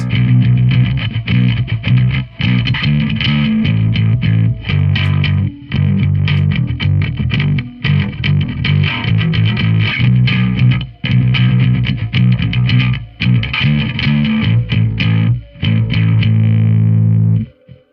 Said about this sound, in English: because if I play it without a pick, it sounds like this.